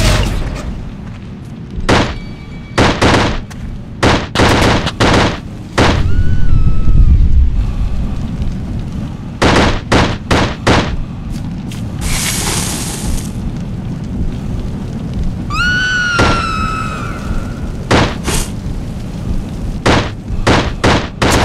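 Loud booms and sharp gunfire bursts from The Suffering game, with a heavy rumbling explosion and a rushing blast, then scattered shots and whooshing effects, all dense and close.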